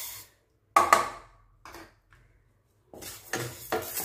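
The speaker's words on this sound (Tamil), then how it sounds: "இப்போ இதை கொட்டிட்டு நம்ம பாசிப்பருப்பை வறுத்துக்கலாம்." Dry moong dal scraped and stirred in a hot pan with a utensil, giving sharp scraping and clinking bursts in several separate clusters, fairly close, with short quiet gaps between them and no talk.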